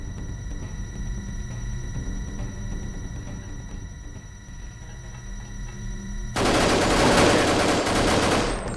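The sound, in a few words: assault rifle gunfire in video game Deus Ex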